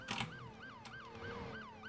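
A police siren in a video game wails in a steady repeating rise-and-fall cycle, fairly clear over a low engine hum, with no voices.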